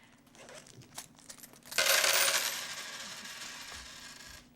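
Pennies tumbling into a jar: a few light clinks, then a loud rushing cascade of coins that gradually thins out, close and clear with no talking.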